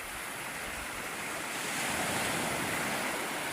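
Sea waves wash steadily onto a beach, a continuous broadband roar of surf with wind rushing across the microphone and no voices.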